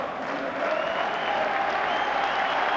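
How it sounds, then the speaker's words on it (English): Warm crowd applause at a Rangers versus Motherwell football match as substituted player Trevor Stephen leaves the pitch, a steady, dense wash of clapping from a large stadium audience, sustained and even throughout. "he's getting some warm applause"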